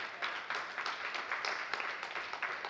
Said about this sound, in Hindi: मेरी बहनें भी आ गई हैं, वो बैठी मेरी बहनें, एक बार जोरदार ताली बजा दो।